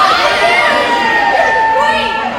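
Crowd at a New Era Wrestling event roars and cheers steadily throughout, a dense wash of many voices close and loud with shouting mixed in.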